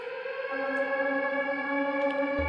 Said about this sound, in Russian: Такой вот звук сирены,